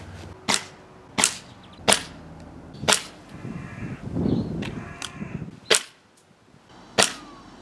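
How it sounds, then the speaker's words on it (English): A rifle fires repeatedly at a fully charged lithium 18650 battery: six sharp, loud cracks spaced about a second apart, with a rough rustling stretch in the middle and a brief quiet gap before the last two shots. "do you think this is going to burst into flames when I shoot it?"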